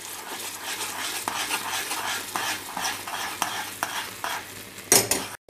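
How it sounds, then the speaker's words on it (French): Caramel with a pinch of salt and hot crème fraîche being stirred in a pan: close, steady scraping strokes in an even rhythm, with a sharper clatter of utensil on pan near the end. "j'ajoute ensuite la crème fraîche chaude et je mélange"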